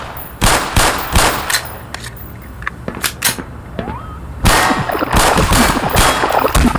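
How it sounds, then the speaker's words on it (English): Weapon fire from the game Black Mesa, a Half-Life remake: rapid cracking bursts and sharp single shots, loud and close, with a brief lull before another dense volley. "First thing would be the weapons sound, improving them from the old game."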